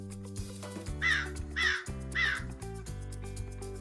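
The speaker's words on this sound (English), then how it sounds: "Crows are black and they call loudly." A crow gives three loud, harsh caws in an evenly spaced series, set over a steady bed of background music.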